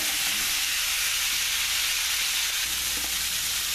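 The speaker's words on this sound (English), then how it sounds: "Now it's been a couple of minutes and I have not stopped stirring" Poultry and cashews fry in a pan under constant stirring, giving a loud, steady sizzle and hiss up close with faint scraping throughout and no talking.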